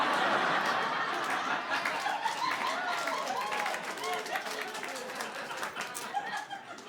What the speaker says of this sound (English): Thank you for applauding Coinstar